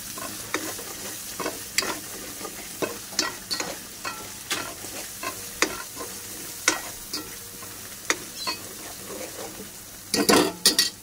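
Spice masala for misal sizzles and fries in a pan with turmeric added, while a spoon stirs and scrapes in repeated clinks, ending in a louder burst of sizzle and clatter.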